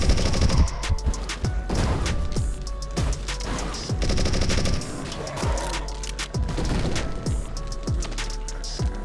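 Rapid bursts of automatic gunfire and booming shots from a zombie shooting game, Total Assault: Fight to Death, crackle in a dense, loud, continuous barrage with repeated sharp impacts and no talking.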